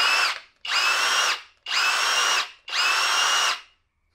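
A Kobalt 24V brushless SDS Plus rotary hammer runs in drill mode in four even bursts of about a second each, a loud high whine that stops between runs.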